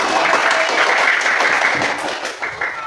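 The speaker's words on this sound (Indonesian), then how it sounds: "Tepuk tangan." Classroom students applaud in a dense, continuous burst of clapping that stays loud and close for the whole stretch, fading slightly near the end.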